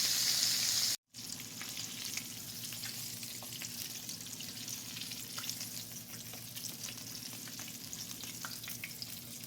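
Squirrel pieces frying in hot grease give a continuous, even crackling sizzle that holds steady throughout, broken only by a brief dropout near the start.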